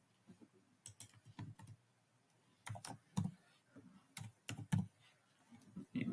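Keys tapped on a computer keyboard while a guest user name is entered in Azure Active Directory, quiet clicks in short irregular bursts with pauses between them.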